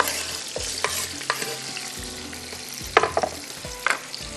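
Onions, chilies and tomatoes frying in a pan, a close crackling sizzle broken by clattering stirs and spoon scrapes that cluster near the end, fairly loud with no voices.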